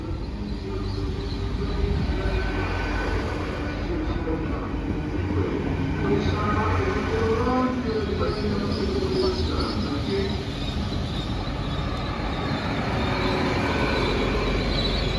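Train pulling out of Westbury station, a continuous steady rumble of engine and wheels heard from on board with constant background noise throughout and no clear speech.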